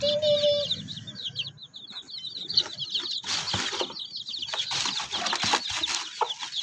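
Baby chicks cheep in rapid, high, continuous peeping near a resting hen, with wing flutters and soft scuffling, and a person talking partly over them.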